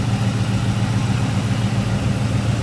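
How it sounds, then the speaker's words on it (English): Steady low rumble of a lowered 1986 Chevrolet C10 Silverado short box idling, an even, continuous engine drone heard close up with no talk. "Good looking engine bay, also good sounding"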